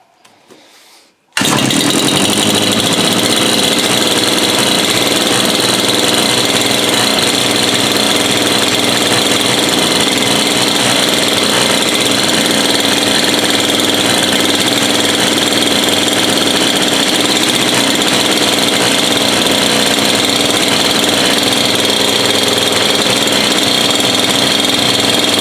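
A small two-stroke bush cutter weed eater engine, under repair and adjusted on the choke, fires up after a short quiet start and then runs steadily and loudly for the rest of the time, close by with no talking.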